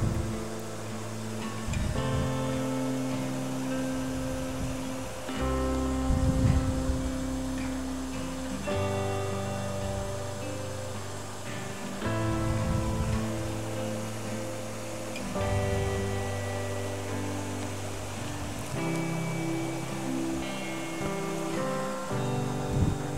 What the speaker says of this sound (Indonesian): Bisa kita lihat di sini airnya, debitnya sangat gede banget ya di sini, sampai kayak ada ombak-ombak gitu teman-teman.